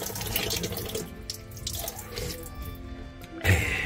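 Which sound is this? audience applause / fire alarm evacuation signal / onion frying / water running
water running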